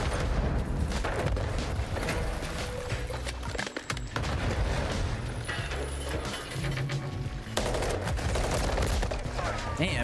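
Ranked multiplayer in Modern Warfare 3 with scattered gunfire crackling throughout, bursts and single shots mixed with game ambience and footsteps, fairly dense but somewhat muffled.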